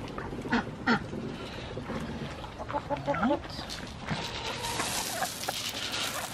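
Backyard chickens pecking at scratch grain, a treat feed, with scattered clucks and squawky calls near the recorder. Low voices murmur in the background.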